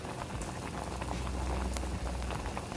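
A pressure cooker holding dal with onion and tomato sits on a stove and gives off a quiet, continuous bubbling and hissing with no talking.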